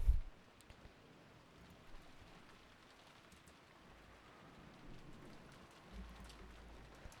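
Soft, steady rainfall hisses faintly in the background of the Umineko visual novel, with a low rumble and a brief thump at the start, quiet and alone without voices.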